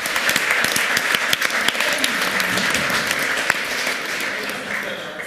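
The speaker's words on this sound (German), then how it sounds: "einen großen Applaus für unsere Windverstärkung" Audience applause at a German-language hacker congress event, a hall full of people clapping loudly and steadily throughout.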